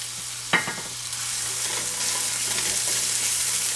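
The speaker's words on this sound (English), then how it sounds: "And then we're going to throw in the burger with them." Ground beef hits a pan of softened onions and peppers in oil for tacos, starting with a sharp clatter, then swelling into a steady, close sizzle with light stirring scrapes.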